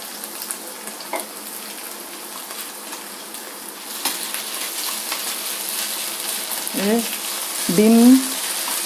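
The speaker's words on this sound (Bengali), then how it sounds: "ক্যাপসিকামটা যাতে একটু ভাজা হয়ে যায়" Capsicum and chopped ginger frying in a pan for restaurant-style Chinese fried rice, giving a steady close sizzle throughout, with a few short tonal clinks and a brief swell near the end.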